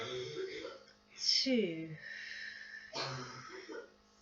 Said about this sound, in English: Please excuse the coughing of my child.